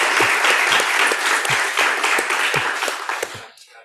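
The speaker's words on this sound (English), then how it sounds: "So a round of applause for our panel." A conference audience gives a panel a round of applause: brisk, close clapping from a room of people, with a few sharper individual claps, fading quickly to silence at the end.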